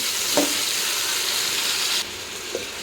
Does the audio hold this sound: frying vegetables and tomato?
yes